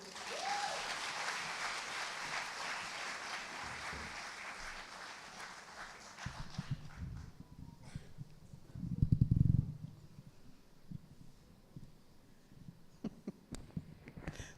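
An audience at an International Women's Day celebration applauds in a dense, faint wash of clapping that fades after several seconds, leaving a few scattered claps over low hum and a brief thump.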